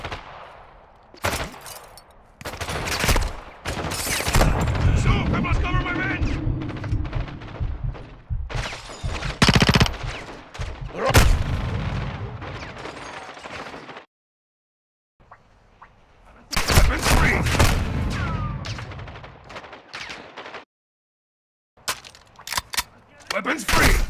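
Gunfire from a Call of Duty: Modern Warfare II battle: loud, dense bursts of machine-gun fire and single shots, with shouted voices mixed in. The shooting cuts out for brief quiet gaps before it starts again.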